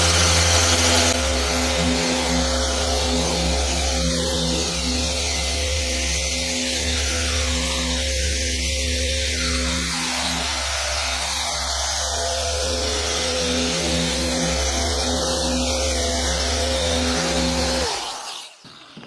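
An Onyx Supreme Compound car polisher runs during paint correction, a loud steady droning whine with a constant motor pitch that holds for about seventeen seconds before winding down at the end.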